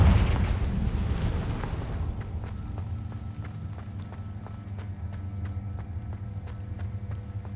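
Spell blast in the video game Hogwarts Legacy: a loud booming burst at the start that fades after about two seconds into a low rumble with faint repeated ticks.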